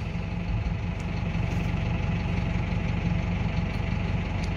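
A Valtra G135 tractor engine idles close by, a steady low diesel rumble with an even, throbbing pulse and no voices.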